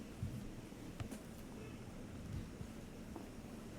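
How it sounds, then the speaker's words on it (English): Steady, fairly faint hiss of heavy rain during a thunderstorm with a low rumble underneath, continuous throughout with no voices. "It's raining pretty heavy."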